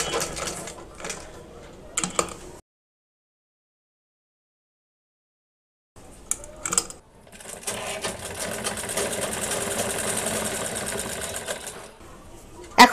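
A sewing machine stitches a salwar koli panel in short rapid bursts, goes silent for a few seconds, then runs again in a longer steady whirring stretch.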